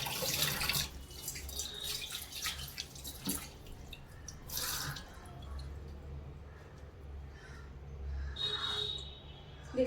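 A kitchen tap runs water into a sink, a thin steady stream with irregular splashes and drips and a low hum underneath, fairly quiet and without talking.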